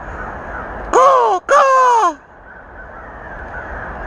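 Crows cawing loudly in the woods, two harsh close bursts in quick succession rising over a quiet outdoor background, then fading back to ambient hush.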